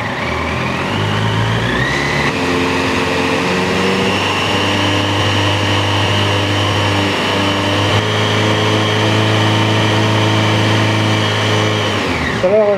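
A motorcycle engine revved to speed up coolant warm-up while the coolant is being changed: a loud, steady high idle that climbs in pitch early, holds a sustained drone for about ten seconds, then drops away at the end.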